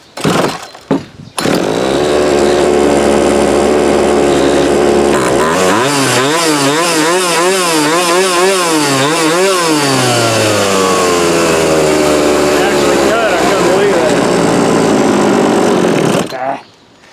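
A 1997 Poulan 2550 Wood Master chainsaw, in rough shape with a carburetor that may need replacing, pulls to life after a couple of short bursts. It runs loud and close, its revs rising and falling through a wavering mid-clip section, then cuts off.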